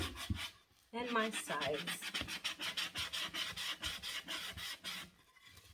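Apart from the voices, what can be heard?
sanding wood by hand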